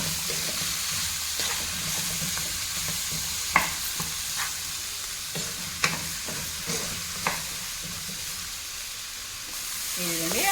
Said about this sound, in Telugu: ఆయిల్లో దొసకాయ ముక్కలు సగం వరకు ఫ్రై అయినాయి